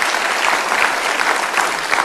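Studio audience applause on an Indonesian political talk show, loud, dense clapping from a crowd filling the whole moment, steady and close with no pause.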